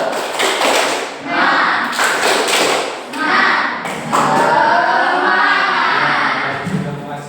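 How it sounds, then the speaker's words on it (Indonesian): A classroom of students performs a rhythmic spirit clap, a series of sharp patterned claps and thumps in a steady beat, close and loud, with voices chanting along between the claps. "Tepuk semangat."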